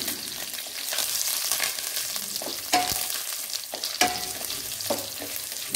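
Dried red chillies, curry leaves, garlic cloves and ginger frying in oil in a pan for a tomato-onion chutney, a steady close sizzle with occasional sharp pops and stirring scrapes.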